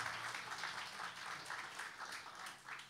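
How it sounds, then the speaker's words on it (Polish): Applause from the audience at an oriental dance show in Michałowo, heard as a steady, dense wash of clapping that runs through the whole stretch at a fairly low level, with no voices over it. "też poprosimy o brawa."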